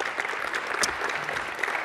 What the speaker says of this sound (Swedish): Jag tycker vi ska börja med en varm applåd för Mattias Miksche.